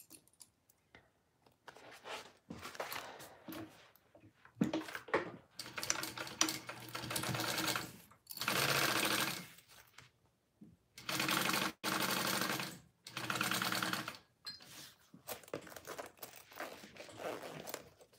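Sewing machine basting the main panel and lining of a fabric barrel bag, several short stitching bursts separated by quiet gaps with light handling noises, close by.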